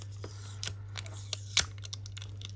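Adhesive pull tabs being peeled from a Samsung Galaxy A36 phone battery during a screen replacement, a string of small close crackles and ticks over a steady low electrical hum.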